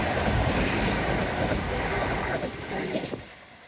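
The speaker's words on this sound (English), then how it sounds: "And it's a train." A train runs along the Dawlish seawall by the sea, a steady broad rumble with heavy wind buffeting the microphone, easing off toward the end.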